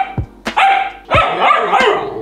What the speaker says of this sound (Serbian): naš pas želi samo jednu stvar